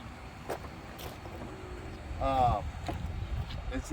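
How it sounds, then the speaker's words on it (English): Electric window motor on a 1994 Mercedes-Benz W140 S500 whirs briefly near the middle, a short rising mechanical hum under a steady low background, with faint talk around it. "the weight of the motor that has to use to just roll these windows up and down"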